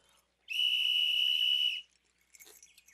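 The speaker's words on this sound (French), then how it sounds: "Je peux même souffler dans le sifflet" A one-man band's whistle sounds one steady, shrill, sustained blast lasting just over a second, loud and close, followed by faint clicking handling noise.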